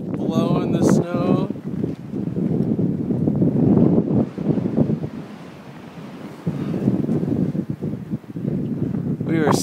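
Strong wind blowing snow across the crater on Mount Rainier, a loud roaring buffet against the microphone that surges and eases, with a person talking over it.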